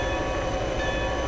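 A freight locomotive in the Train and Rail Yard Simulator video game powers up under an opened throttle, a steady, loud rumble of engine and rolling rail noise with faint tonal whine, continuous and close throughout.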